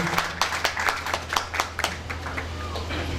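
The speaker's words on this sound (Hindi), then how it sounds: "तालियां बजाकर सब सम्मान" An audience claps at a formal gathering, a short burst of scattered, uneven handclaps that rises and then thins out over a low steady hum.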